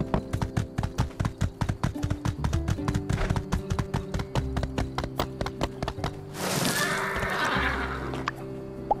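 Rapid rhythmic hoofbeats of a galloping horse in the video game My Time at Sandrock, then a loud, drawn-out neigh near the end, with a few more hoof clops after it.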